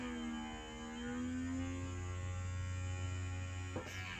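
Syrebo hand rehabilitation robot glove runs in automatic mode, giving a steady low electric hum with a faint pitch shift early on and a brief click near the end, quiet and continuous with no voices.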